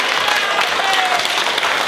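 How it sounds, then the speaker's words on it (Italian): Dense, steady applause from an audience fills the whole stretch, loud and close with no break in the clapping. "E un applauso"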